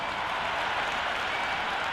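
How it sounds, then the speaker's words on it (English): Dense, steady roar of a cricket crowd cheering and clapping in the Cricket 26 video game, a continuous wash of stadium noise that stays level for two seconds without a break. "already the crowd making a hell of a racket"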